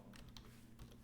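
Quick, light clicking of a computer keyboard as a web address is typed, a rapid run of close keystrokes heard alone at low volume.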